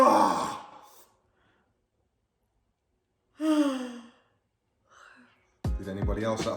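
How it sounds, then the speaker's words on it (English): Someone at home yawns, with a long breathy open-mouthed yawn at the start, a second voiced yawn with a rising moan mid-clip, a faint breath after it, then brief talk at the end. "Did anybody else at home yawn?"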